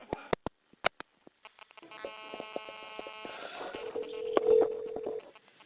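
A telephone call is placed: a quick series of dialing tones and clicks, then a steady ringback hum and a sustained tone, with no talk.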